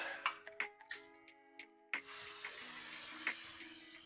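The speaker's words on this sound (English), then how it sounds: "spritz the pan a little bit, get a little bit of olive oil on it" Olive oil spritzed onto a hot pan on a gas stove gives a steady, close hiss that swells suddenly and holds for the second half, following a few light taps and clicks.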